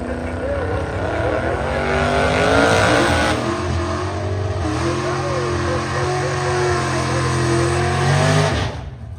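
A drag racing car accelerates hard down the strip at the Sick Week 2024 event, a loud, continuous engine roar climbing through several gear changes under a commentator's voice before cutting off abruptly at the end.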